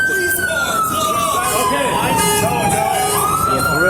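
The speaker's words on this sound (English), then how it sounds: "Somebody shut this siren off." A police car siren wails loudly and continuously up close, its tone sliding slowly downward before rising again, with people talking over it throughout.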